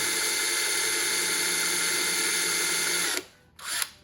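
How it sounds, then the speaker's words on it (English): A hand drill bores a shallow marking hole, a loud close whirring grind that runs steadily for about three seconds, stops, then gives one brief short burst. "with the hand drill, it's really just a marking"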